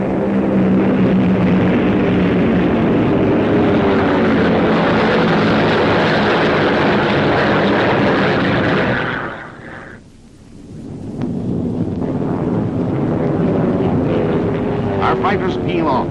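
WWII fighter planes with propeller engines, 1944 USAAF aircraft, roar loudly and steadily, then dip briefly into near silence before the drone swells back, as if passing close overhead.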